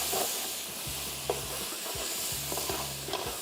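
Coriander, turmeric and red chili fry in hot oil, giving a steady close sizzle broken by regular scraping strokes of a spoon stirring the spices in the pan.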